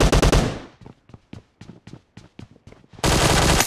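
Rapid bursts of video game gunfire from a laggy shooter, a loud opening volley, then a string of separate sharp shots, then a dense sustained barrage at the end.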